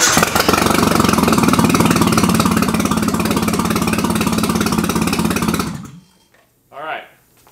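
A turbocharged Nissan 240SX engine at its first start, missing a cylinder, runs loud and close with a rough, uneven idle for several seconds, then cuts off abruptly into near silence, followed by a brief voice.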